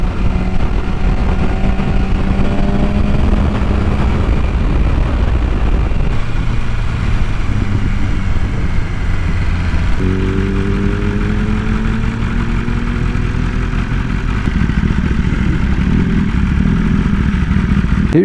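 A group of motorcycles rides on mountain roads with loud, continuous engine drone and shifting tones as the bikes accelerate and change gear.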